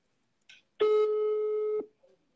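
A single steady telephone tone, a held buzzing note lasting about one second, sounds clearly and loudly while a call is being dialed, with brief faint noises just before and after.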